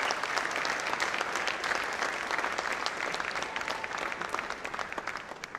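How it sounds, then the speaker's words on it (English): A school audience of parents applauds Class 2 students after their theatre performance, steady dense clapping filling the hall for several seconds and tapering slightly at the end. "a thunderous applause for these students"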